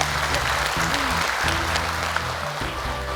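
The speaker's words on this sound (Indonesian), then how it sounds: "Boleh tepuk tangan untuk Afiko." Studio audience applause for a contestant on the Hafiz Indonesia 2020 Quran-memorization show, steady clapping over a low background hum and sustained tones for about three seconds.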